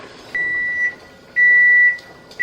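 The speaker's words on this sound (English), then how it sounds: "Timer's going off." Kitchen timer going off during pressure canning of turkey broth: two loud, shrill electronic beeps, each about half a second long, then the start of a third, close by with no talking.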